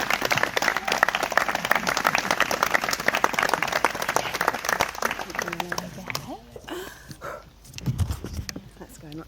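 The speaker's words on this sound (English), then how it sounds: "Give her a round of applause as she makes her way up here" Wedding ceremony guests clap in a dense, steady round of applause that fills the first six seconds, then fades out as a few scattered claps and voices remain.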